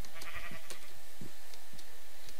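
Sheep bleating in a survival video game, several short, moderately loud calls scattered over a constant background hum from the game.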